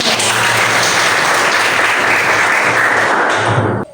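A class of children claps together in a classroom, a steady, dense burst of applause that holds loud for about three and a half seconds and then stops abruptly.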